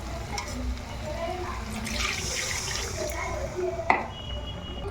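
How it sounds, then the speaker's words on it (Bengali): Water is poured into a pan of potato masala curry with spices, making a close splashing, gurgling pour over a low background rumble. "এবার এর মধ্যে দিয়ে দেবো আমি পরিমাণ মতো জল।"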